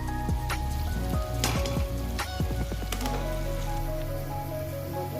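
Chopped tomatoes tipped into a hot pan with turmeric and coriander powder for a dhaba-style egg tadka, hissing and crackling into a steady sizzle with scattered pops and stirring clatter, no talk.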